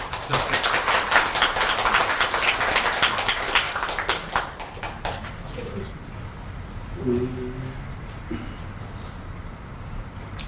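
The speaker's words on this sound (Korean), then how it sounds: "지역 주민들께서 지역 한번 박수 한번 쳐드려야죠." An audience of local residents at a policy debate on a carbon-neutral green city gives a round of close applause that fades after several seconds, followed by a speaking voice in a quiet hall.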